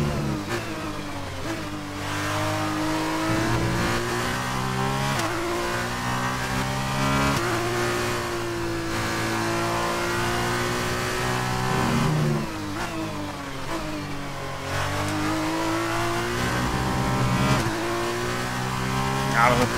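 A Formula 2 race car engine in the video game F1 2019 howls continuously through a lap, rising and dropping in pitch with gear changes and braking, loud and steady throughout.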